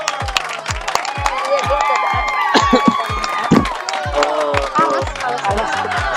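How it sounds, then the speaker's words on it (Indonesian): An audience claps and cheers loudly at an Indonesian gathering, with a steady rhythmic beat of claps under mixed shouting and overlapping voices. "Madam tepuk tangan."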